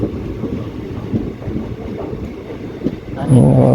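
A passenger train pulls away from Lusada station on the Keshod to Bhavnagar line, heard as a steady low rumble and rattle of the rail cars with wind buffeting, swelling louder near the end.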